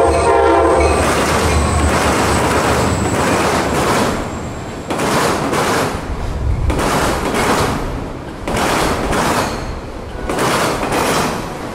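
A freight train rolls past under the US 92 bridge in Auburndale, Florida, opening with a long blast of its horn, then a steady roar of rumbling cars and clattering wheels at close range.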